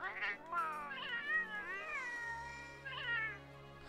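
Cat character voice in the video game Monster Hunter World, a series of drawn-out, warbling meows and caterwauls, close and clear over a low background hum.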